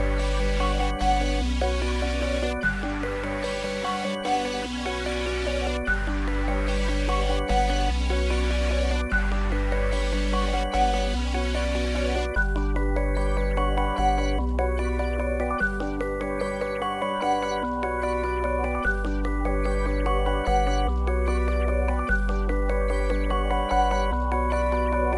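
Dark, fast-paced 148 BPM beat loop made in FL Studio, with booming bass hits, tinkling bell-like melody and busy repeating percussion, playing alone without talk.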